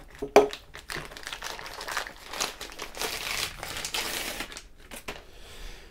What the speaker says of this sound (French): Alors on déballe ça ensemble.